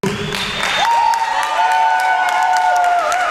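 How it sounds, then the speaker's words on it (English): Crowd applause at a wrestling show for Braxton Hunter's debut, loud close clapping mixed with cheers and a long whistle-like tone, steady throughout. "give a round of applause for Braxton"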